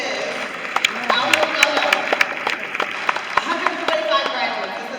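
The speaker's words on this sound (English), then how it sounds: "Give yourselves a round of applause." Graduates at a Sci High graduation ceremony clap for themselves, a steady crowd applause with sharp individual claps and scattered voices and cheers mixed in.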